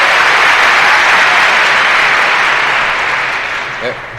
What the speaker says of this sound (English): So, hold the applause till the end, please.